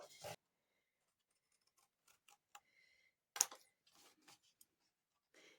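Scissors snip through fabric while a scrappy quilted Christmas ornament pattern is cut out, giving a few brief, crisp cuts separated by quiet pauses, close to the microphone and faint overall.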